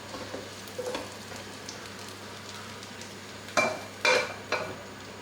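Lamb frying in a pot straight after onions, a low steady sizzle with a few louder clattering scrapes and bumps of utensil against the pot toward the end.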